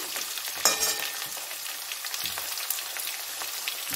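Potatoes fry in oil in a pan for a raw fig curry made without onion, a continuous close crackling sizzle with scattered sharp pops.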